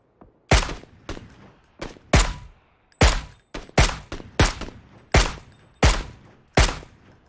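Gunfire in a multiplayer battle game match rings out as a series of loud, sharp single shots, about ten in irregular succession, each with a short echoing tail, and no voices over them.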